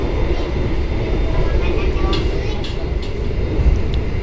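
Steady rumble and rattle inside a moving Purwojaya passenger train in Indonesia, loud and continuous throughout with faint clicks and clatter over the top.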